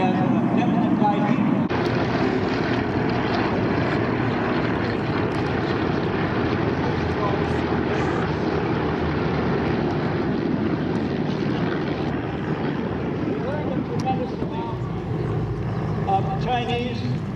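Nanchang CJ-6 propeller aircraft flying at the EAA AirVenture airshow in Oshkosh, Wisconsin, giving a loud, steady droning engine roar throughout, with announcer talk over it.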